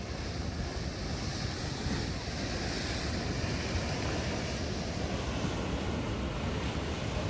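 Hot water surging and splashing at a geyser at Fountain Paint Pot in Yellowstone National Park, a steady broadband wash close by with wind buffeting the microphone throughout and no talking.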